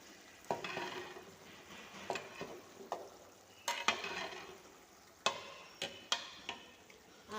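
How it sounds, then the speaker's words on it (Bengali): Khichuri bhog cooks in a pot while a spoon stirs it, giving soft scraping strokes and sharp clinks against the metal over a low sizzle, several irregular knocks, quiet and close with no speech. "আমি খিচুড়ি ভোগটা রান্না করছি"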